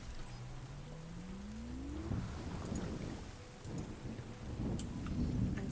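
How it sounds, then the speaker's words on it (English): Rain and rolling thunder in Terra Nil, a soft steady shower with low rumbles and a few distant cracks, a rising tonal sweep early on. "Now it's raining again."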